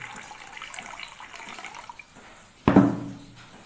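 Hot water being poured and stirred together with salt in a container, a low watery hiss under faint background noise, then a sudden louder splash of pouring liquid near the end.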